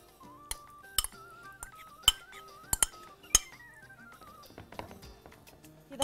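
Metal utensils clink and tap sharply against a pot while tuna is stirred in oil, several distinct bright strikes with faint scraping between them and soft music underneath.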